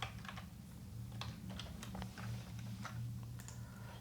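Soft, rapid keystrokes on a computer keyboard patter in uneven bursts over a low steady hum, typed while writing Bootstrap code for a dropdown menu.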